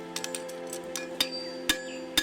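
A farrier's hammer strikes a steel horseshoe to widen its heels, giving several sharp metallic rings at uneven intervals, the louder blows leaving bright lingering tones over a faint mechanical hum.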